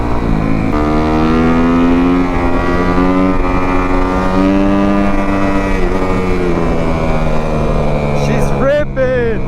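A Kawasaki KX250F dirt bike engine drones close and loud while riding a pothole-filled road, its buzzing pitch wavering up and down, then a quick burst of revs near the end.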